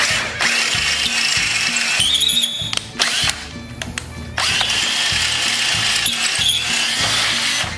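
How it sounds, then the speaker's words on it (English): A power drill with a 17/64 bit drills out deliberately stripped threads in a through hole, whirring in repeated bursts with brief stops and ratcheting clicks between them, close and loud. "We're just gonna drill them out."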